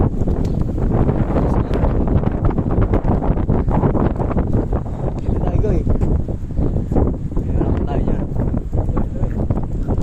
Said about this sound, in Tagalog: Ah, mahangin dito no.